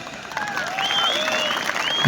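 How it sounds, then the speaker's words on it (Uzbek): A crowd at a kurash wrestling event in Uzun gives a short round of applause, with whistling or shrill calls sliding above the clapping. "bitta chiroyli olqish."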